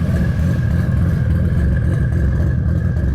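A loud, throaty tuned Nissan Skyline R33 GT-R engine runs up close, rumbling and revving steadily with a raspy HKS exhaust note throughout.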